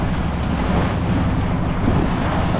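Ocean waves breaking against a fishing boat's outriggers at sea, a continuous loud roar of surf and water mixed with heavy wind buffeting, no voices.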